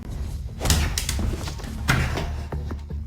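A door being banged or slammed during a tense indoor drama scene: several heavy thuds strike in quick succession, loud and close, over a constant low rumble.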